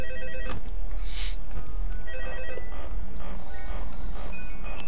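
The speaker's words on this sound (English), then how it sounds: "I also will try to keep in the phone call" A telephone rings repeatedly in Five Nights at Freddy's 2 on night 5, its electronic trill recurring steadily and loudly over a constant background hum, with no talk.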